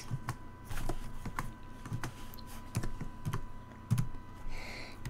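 Rapid, uneven typing on a computer keyboard, close and fairly loud, with irregular clusters of key clacks and a few heavier strokes, no voice.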